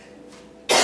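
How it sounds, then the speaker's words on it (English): One person coughs during a hatha yoga class while holding an inverted pose, a single harsh, loud burst close to the microphone that comes after a moment of near quiet. "I'm sorry that I'm coughing,"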